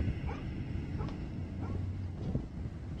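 A video game dog yips and whimpers a few times at moderate distance over a constant windy background hiss.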